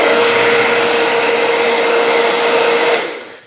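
A Laifen hair dryer blows steadily at full power with a constant whirring whine, then winds down as it is switched off near the end.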